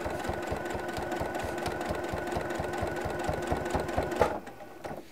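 A home sewing machine runs steadily while stitching binding onto a quilt, its rapid needle strokes making a close, even mechanical patter that carries through most of the stretch before slowing and stopping near the end.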